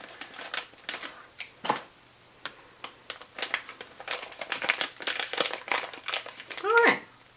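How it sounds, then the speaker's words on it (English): Close, crisp snipping of scissors cutting plastic packaging, crinkling in quick irregular bursts, with a voice speaking at moments in between. "so let's try the scissors again"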